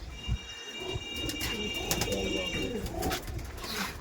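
Andhra pigeons coo softly in a loft amid background rustling and chatter, with a faint steady tone and bursts of noise throughout.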